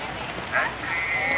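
Rain falls steadily at a traditional outdoor Saturday market in Aek Loba village, a soft continuous hiss with a brief louder patter swell, no talk heard.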